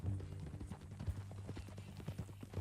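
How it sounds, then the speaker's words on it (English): Horse hooves clip-clop in Red Dead Redemption 2, a faint, steady rhythmic trot over a low background hum, with no voices. "That a new horse?"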